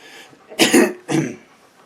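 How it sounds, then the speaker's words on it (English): Two harsh, close coughs in quick succession, loud and raspy, with a brief breath before them, from a person recovering from neck spine fusion surgery. "makes me hack and cough and gag"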